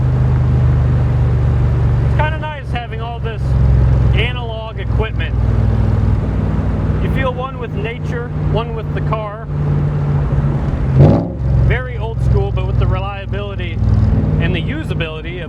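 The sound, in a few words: Coyote V8 engine of a Backdraft Cobra driving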